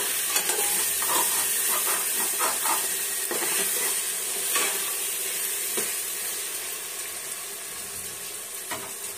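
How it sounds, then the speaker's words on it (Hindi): A pan of Maharashtrian Khandesh-style khichdi being stirred as it cooks, with a steady sizzle and hiss under soft, irregular scraping and stirring scrapes, close by and continuous, no voices. "हमें इसको बीच बीच में चलाते रहना है 5 मिनट तक।"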